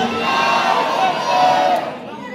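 A crowd in a Shia mourning procession in Hazara Town shouts a religious slogan together, a loud, massed roar of voices that swells, then fades at the end.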